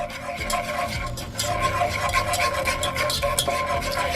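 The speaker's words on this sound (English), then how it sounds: "Just gonna turn the flame down just a little bit more and just stir constantly." Sugar melting in a pan over a lowered flame is stirred constantly, giving a steady, close scraping and swishing that runs unbroken through the whole stretch at an even loudness.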